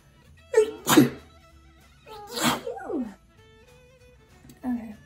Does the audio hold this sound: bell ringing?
no